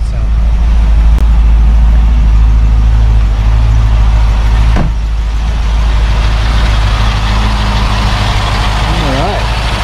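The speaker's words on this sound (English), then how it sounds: "Let's go outside and hear what those tappets sound like." A 1972 Mercedes-Benz 280SE 4.5 engine idles steadily at close range, a continuous low rumble with a faint ticking texture from the valve tappets running through it.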